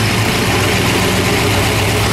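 A 1959 Chevrolet Corvette Purple People Eater MKIII with side-exit exhaust, running loud and close in a dense, steady rumbling idle just after firing up, with no pauses or voices.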